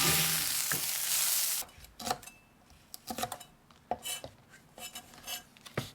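Fresh Korean rice cakes (garaetteok) going into oil in a pan, with a loud initial sizzle giving way to quieter frying and repeated clinks and scrapes of a utensil stirring against the pan.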